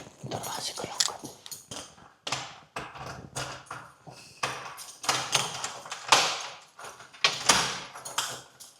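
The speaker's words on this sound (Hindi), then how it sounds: "दरवाजे को लॉक कर।" A door being locked indoors gives a series of clicks, taps and jangling key sounds, close and fairly loud, with whispered talk over them.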